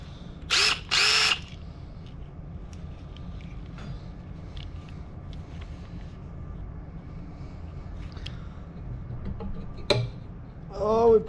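A power drill working on buggy parts whines in two short loud bursts, followed by a long low background hum with scattered clicks, ending with a sharp snap and more brief tool noise as the bit tip breaks.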